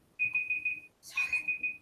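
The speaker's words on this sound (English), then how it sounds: "That was my alarm." A phone alarm sounds in two short bursts, each a quick run of four high, evenly spaced electronic beeps. The beeps are fairly clear against a quiet room.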